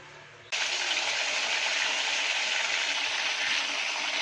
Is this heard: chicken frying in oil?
yes